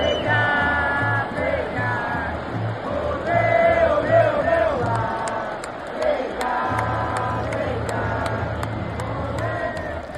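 Stadium crowd at a Palmeiras match applauding Rafael Veiga, a broad swell of cheering and shouting voices over clapping, with a rhythmic low thumping underneath, loudest in the middle and easing off toward the end.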